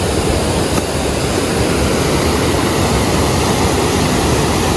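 River water at Gunung Puntang rushes steadily and loudly nearby, a dense, unbroken flowing noise with no voices.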